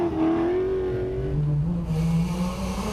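Engine of a Toyota Hilux production-class rally truck from the 4x4 Megaworld team, driving in the Nkomazi 450 desert race in 2014, revs loudly and steadily with a rising and falling pitch, close by and without any talk.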